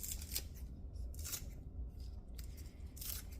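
Scissors snipping onions freshly pulled from a yard garden, several crisp cuts in a quick irregular run over a steady low background hum.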